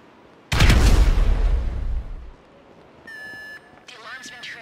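A loud explosion in GTA 5 bursts out and rumbles away over about two seconds, followed by a steady electronic alarm tone and then warbling siren-like beeps during a heist mission.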